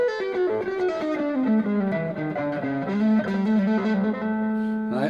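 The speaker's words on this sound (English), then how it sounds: "Let's check out some distortion sounds." A distorted electric guitar played through a Fender amp plays a descending run of sustained notes, thick and buzzy, ringing out clearly on its own.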